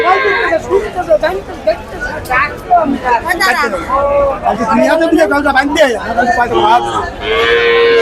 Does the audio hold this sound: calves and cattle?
yes